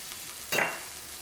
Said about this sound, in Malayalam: ഇതെല്ലാം കൂടിയിട്ടൊന്ന് മിക്സ് ചെയ്യാം.